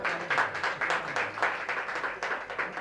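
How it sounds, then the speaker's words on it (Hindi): An audience claps for a poet at a poetry gathering, with steady, moderately loud, dense applause that pulses slightly and carries on through the whole stretch without voices. "तो एक बार रजनी बालाजी के लिए बहुत जोरदार तालियां।"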